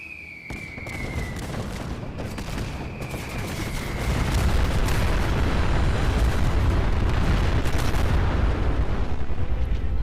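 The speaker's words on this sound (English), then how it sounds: "McSuckbutt would launch another ICBM targeted at Good Neighbor with a larger payload to ensure maximum damage of the cluster bombing" Cluster bombing explosions in a Fallout game: a dense, continuous barrage of booms and rumbling blasts that swells louder and heavier midway and keeps roaring to the end, with no voices.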